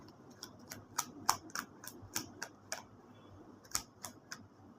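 Tarot cards drawn from a deck, giving a string of light, crisp ticks and card snaps at an uneven rhythm, close and quiet with no talk.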